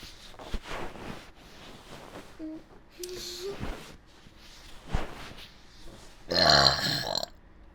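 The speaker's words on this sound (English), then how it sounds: "I need a burp." A loud, drawn-out burp erupts near the end, following quieter handling noises, brief murmurs and a faint hum, all close by in an indoor room.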